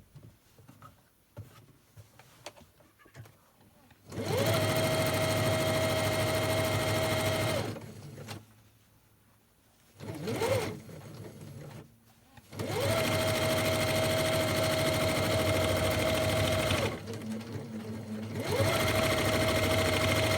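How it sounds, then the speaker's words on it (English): A sewing machine stitches down the edge of a fabric lunch bag in two long, steady whirring runs separated by short pauses and handling noises, loud and close with no talking. "And you're going to sew down that edge there."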